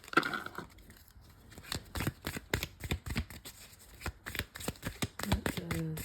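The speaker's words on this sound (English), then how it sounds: "So I'm going to just pull some tarot cards here" Tarot cards being shuffled by hand at close range, with a series of quick, crisp riffling snaps and soft papery slides in an irregular rhythm in a quiet room, with a few faint tones underneath.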